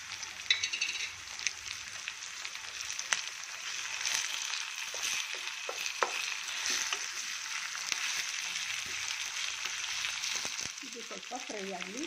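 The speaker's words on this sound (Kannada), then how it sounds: "ಇದು ಸ್ವಲ್ಪ ಫ್ರೈ ಆಗಲಿ." Ginger garlic paste fries in a pan, a soft steady sizzle with occasional light stirring clinks, quiet and continuous, and a voice briefly speaks at the end.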